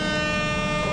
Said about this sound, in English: Air horn in there as well